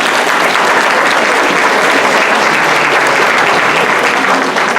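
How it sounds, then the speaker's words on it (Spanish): Steady, dense applause from an audience at a talk on psychopedagogy, loud and close throughout with a few scattered voices mixed in. "Un aplauso, por favor."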